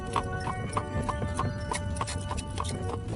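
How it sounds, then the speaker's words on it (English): Horse hooves clip-clopping at a steady trot of about nine miles an hour, a regular series of sharp, evenly spaced knocks close by over a constant low road rumble, with no talking. "There's something about a horse that has an appeal that the automobile doesn't."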